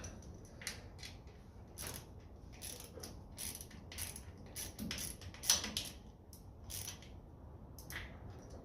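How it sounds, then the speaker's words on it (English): A ratchet spanner turns a bolt on a 1954 Ferguson 20 TEF diesel tractor during a charging adjustment, giving a series of quick, close clicking ratchet bursts in an irregular rhythm. "I'm going to hang the ratchet spanner on the bolt."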